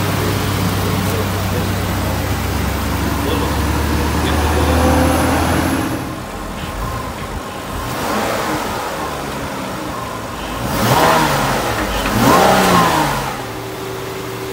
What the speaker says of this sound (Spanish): Pero pues ahí está ya el carro ya arrancado